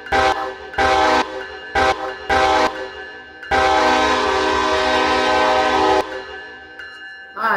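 A CSX train horn in Roblox blares loudly in a horn show: several short, sharp blasts in quick succession, then one long sustained blast of about two and a half seconds, fading out.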